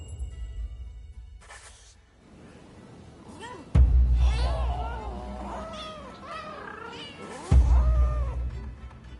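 Cats meow repeatedly in the video game Rise of the Ronin, a series of clear, close, wavering cries over low thumps and game ambience.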